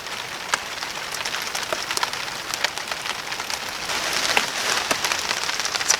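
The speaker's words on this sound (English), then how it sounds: "Cold and wet, rainy." Rain falls steadily at night during a winter storm, with dense pattering and sharp individual drops striking nearby surfaces, fairly loud and continuous with no voices.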